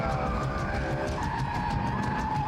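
A V8 BMW M3 without ABS slides under acceleration, its engine howling at high revs with a strained wavering note while tyres scrub and skid in rhythmic pulses, close and loud.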